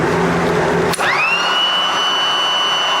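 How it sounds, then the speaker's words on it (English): A Ryobi 18V blower on a replacement battery starts with a click and spins up into a steady high whine that holds loud and constant after the first second. "we have a successful fan, or blower"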